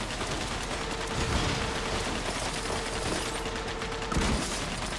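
Gunfire in the Lego DC Super Villains video game crackles as a dense, rapid stream of shots. It blends into a constant wash of game sound, with a louder burst near the end and no voices.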